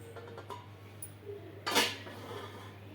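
A metal plate set down over a rava dosa pan, giving one short clattering clink against the pan, close and clear, with faint kitchen clinks before it over a steady low hum.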